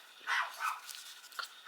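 Chihuahua barking indoors in a sewing room: two or three quick, high yaps close by, followed by a fainter short yip, with no talk over them.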